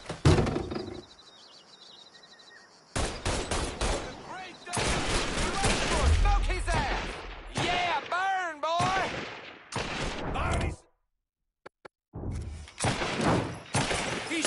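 Gunfire in a Mafia 3 video game shootout: bursts of shots and thumping impacts come in clusters, loud and close, mixed with shouting voices and in-game chatter, with a brief silent gap near the end.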